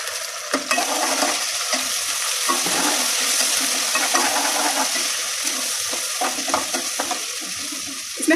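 Ginger garlic paste fries in a pan with a dense, steady hiss and sizzle, punctuated by occasional light scrapes of stirring, close and continuous with no talking.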